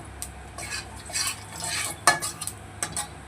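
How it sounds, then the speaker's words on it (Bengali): Black cumin seeds tempering in hot oil for a hilsa fish curry, a steady close sizzle and crackle with a few sharp spoon-against-pan clinks, no talking. "তেল দিয়ে তার মধ্যে ফোড়নে দিয়ে দিচ্ছি একটু কালো জিরে"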